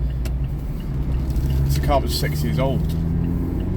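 A 2018 Mazda MX-5 RF with the 1.5 engine drives along, its engine a steady low rumble under someone talking throughout.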